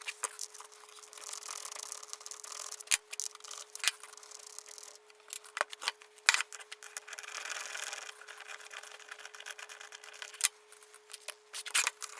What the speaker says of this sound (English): Favorite part is cutting these bags open.